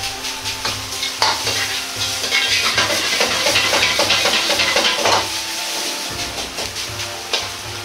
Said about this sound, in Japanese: 鍋を煽りながらお玉の酒を使ってご飯をほぐしながら炒めます。